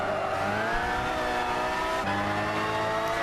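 A turbocharged car in Gran Turismo 6 spins its tyres, producing a continuous, loud engine roar with rising and falling harmonic tones and a faint scrubbing hiss, with no voices.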